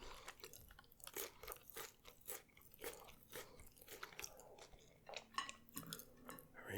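McDonald's fries are chewed up close, with soft rhythmic crunches and bites repeating steadily through a quiet, intimate eating session. No talk.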